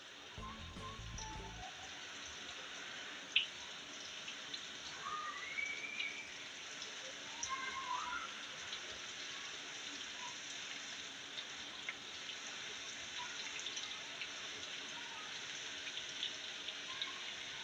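Gola kebabs frying in hot oil in a pan at medium heat: a soft, steady sizzle and crackle with scattered pops, heard close but fairly quiet, after a short low thump at the start.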